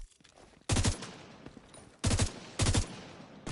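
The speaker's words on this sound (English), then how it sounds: "Someone's shooting at me?" Gunfire in The Division 2 during a four-player co-op session, heard as three loud close bursts of rapid automatic shots, each lasting about a quarter second, over a low game ambience with no talk.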